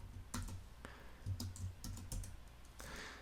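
Fingers tap out code on a computer keyboard, a close run of soft uneven keystrokes with short pauses between clusters.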